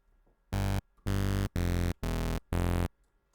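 A loud, buzzy monophonic synth bass tone plays five separate held notes with short silent gaps between them, close and alone.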